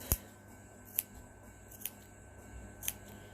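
Fabric being notched with scissors while sewing mittens: four crisp, quiet snips spaced about a second apart against a soft room background, with no talking.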